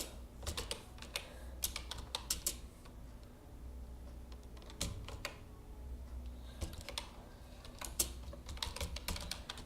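Java code being typed on a computer keyboard: bursts of quick, close key clicks with short pauses between runs, fairly quiet, with no talking.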